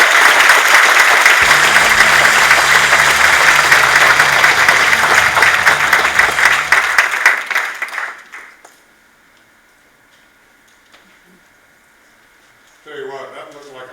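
An awards-night audience at a sports conference ceremony gives a loud, sustained round of applause that fades out after about eight seconds, leaving near silence before a brief sound at the end.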